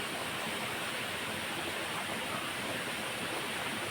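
Clean water flows steadily at a natural bathing spot in the Sirumalai hills, a constant dense rushing like a small waterfall or stream, close and loud with no voices.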